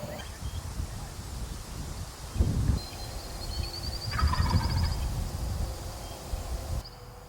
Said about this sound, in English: That old gobbler finally came out here in this field we were trying to get him to